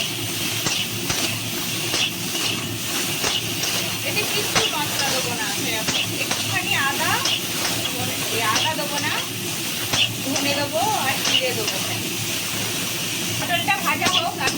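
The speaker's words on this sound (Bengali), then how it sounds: "এবার একটু নেড়ে চেড়ে লাল লাল করে ভেজে নেবো" Pointed gourd pieces frying in a pan with turmeric and salt, giving a steady, even hiss of sizzling oil with occasional stirring clicks, and a faint voice in the background.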